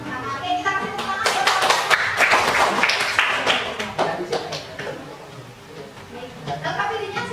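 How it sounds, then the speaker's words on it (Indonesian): Students in a classroom clap for a classmate, a burst of quick, uneven hand claps that builds and then thins out, mixed with children's chatter and voices. "Oke, kita kasih tepuk tangan."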